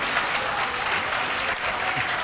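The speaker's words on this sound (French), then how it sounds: "Applaudissements pour accompagner l'adjudant-chef Zouk Moré" A crowd claps for Adjudant-Chef Zouk Moré at a Burkina Faso Gendarmerie Nationale gathering, dense steady applause throughout, close and loud with no talking.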